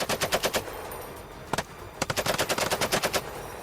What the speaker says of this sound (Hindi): अमेरिका की M2 मशीन गन से यूक्रेन के सैनिक रूस की फौज पर गोलियां चलाते दिखे